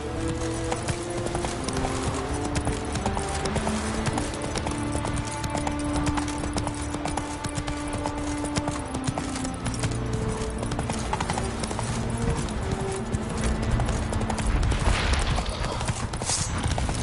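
Horse hooves gallop in a steady, rapid clip-clop, dense and continuous, set within a busy soundtrack layered with music and other noise.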